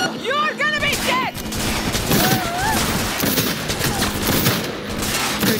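Automatic gunfire bursts in Cyberpunk 2077 during the Disasterpiece job, dense rattling volleys running continuously with booms, mixed with game music and brief voices.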